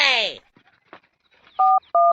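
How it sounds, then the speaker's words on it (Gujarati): A telephone being dialed by hand, two close, loud tone beeps with a short gap between them, following a brief burst of speech. "તાર ભાઈ ને ફોન તો કરીએ"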